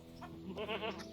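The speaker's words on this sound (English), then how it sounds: "There's a nervous goat." A goat in the online game Lord of the Rings Online lets out one short, wavering bleat, close and fairly loud over a faint background hum.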